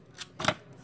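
Pinking scissors cutting cardstock, two short crisp snips close up, the second louder and slightly longer.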